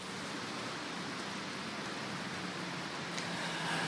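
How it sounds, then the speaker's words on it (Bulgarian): Light rain falling in Varna, Bulgaria, heard as a soft, even hiss of drops that stays faint and continuous, with no voices. "Във Варна и в този час продължава да вали дъжд, но не е силно."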